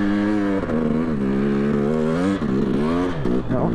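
A dirt bike on Trelleborg (Mitas) studded tires churns through fresh powder snow, its engine droning loudly and continuously in a low gear with wavering pitch as the throttle rises and falls.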